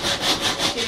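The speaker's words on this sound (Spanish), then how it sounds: "Yo voy lijando respetando la forma que tiene el maniquí." Hand sanding of a male mannequin with sandpaper, rhythmic back-and-forth rasping strokes at a steady pace, close and fairly loud with no talking.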